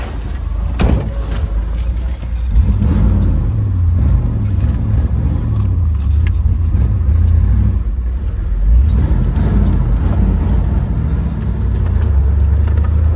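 A 1965 Chevrolet Impala Super Sport convertible drives past up close, its engine rumbling low and steady as it pulls through the gears, with a few rises in revs and a sharp knock near the start.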